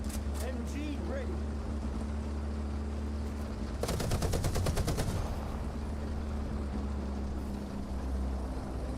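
Rapid machine-gun burst from a tank in War Thunder, a fast even stutter of shots lasting about three seconds over a steady engine rumble, with faint background chatter.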